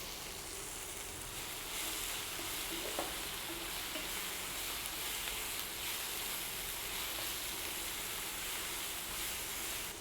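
Split green chillies fry in an egg korma gravy, making a continuous soft sizzle and hiss with occasional stirring, close by and without talk.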